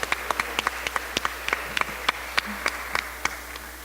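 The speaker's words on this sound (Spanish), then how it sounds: "Un aplauso para ellos" Sparse, scattered hand claps from a small audience at an international journalists' meeting in Lagos, Mexico, about a dozen distinct claps spread unevenly over a few seconds, fairly faint with no talk.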